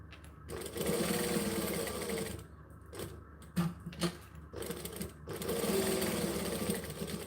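A Green Machine sewing machine stitches in steady whirring runs, pausing briefly between bursts with small clicks and handling noises, close and fairly loud.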